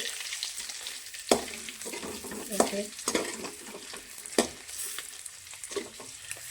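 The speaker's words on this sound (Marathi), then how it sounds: "थोडी मिरची पावडर टाक त्याच्यात, हलवून घेते" A spoon stirs chili powder into sizzling oil in a pan for egg biryani. Several sharp scraping knocks against the metal rise over a soft, steady frying hiss.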